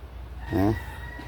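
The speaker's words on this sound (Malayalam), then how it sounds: "പയോമിയ കോഴികളാണ്. നല്ല പൂവന്മാർ" A Fayoumi rooster gives one short, loud crow that rises out of a quiet yard background among other Fayoumi hens and roosters.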